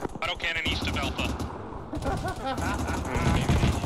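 Autocannon fire in the military shooter Arma 3 during a multiplayer battle in an open field: repeated rapid bursts of heavy gunfire, loud and continuous, mixed with voices talking over the action.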